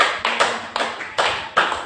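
Audience clapping for Jesus at a Swahili sermon, heard as four short bursts of applause spaced about half a second apart, fairly close and loud, with no talking.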